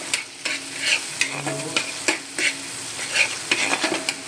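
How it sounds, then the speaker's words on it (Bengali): A spoon stirs food frying in a pan after turmeric is added, with a steady sizzle and a series of sharp scraping clinks at an uneven pace. No one speaks. "হলুদ দিয়ে নাড়বো।"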